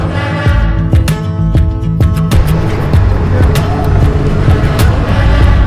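Busy street traffic in Bangladesh with cars driving past close by, a loud continuous engine roar broken by sharp clicks and clatter throughout, and no voices.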